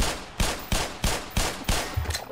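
Rifle fire in the video game Black Mesa: five sharp, evenly spaced shots about a third of a second apart, each with a short decaying tail, followed by a smaller rattle of impacts.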